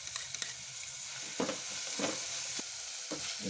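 Ginger garlic paste frying in a pan, a soft steady sizzle with a few light stirring scrapes and taps, close and fairly quiet with no talking.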